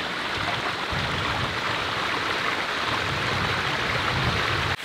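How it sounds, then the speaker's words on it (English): A small waterfall pours into a stream on a hiking trail, a steady, dense rush of splashing water that stays even and close throughout, with no voices. "nice little waterfall here"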